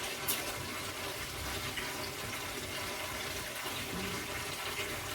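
Running tap water pouring steadily while hands are washed with washing-up liquid and lime, a continuous close splashing gush with faint rubbing, no talk.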